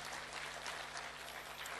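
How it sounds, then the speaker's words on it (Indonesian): A church congregation at GBI Tasikmalaya claps in a dense, steady wash of applause that holds at an even level throughout, with no voices over it. "Tepuk tangan bagi Tuhan kita."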